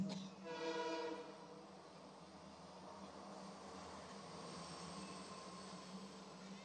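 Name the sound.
express train passing by on the track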